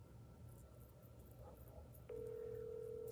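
A telephone tone sounds on an outgoing call, a steady electronic tone starting partway through over low background hum.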